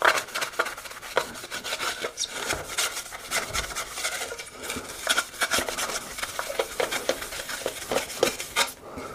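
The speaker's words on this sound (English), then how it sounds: "scuff the surface up" Scuffing a painted panel surface with an abrasive to dull the gloss to a matte finish, a steady close rasping rub with repeated strokes and no talk.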